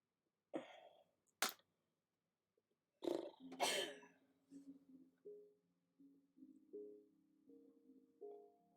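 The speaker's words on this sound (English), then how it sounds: "the coughs that you hear that don't come directly from me or from my niece" A person somewhere else in a house coughs and clears their throat several times, sharp isolated bursts followed by a run of short, quieter hacking coughs, faint and a little distant.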